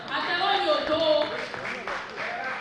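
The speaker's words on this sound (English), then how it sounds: "Please give him a round of applause." Audience applause for the vice president of the group at an Egbe Omo Oduduwa fundraising gala, a steady crowd clapping that fills the room for a few seconds, with voices mixed in beneath the clapping.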